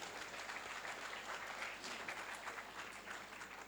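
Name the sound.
audience applause welcoming a speaker to the stage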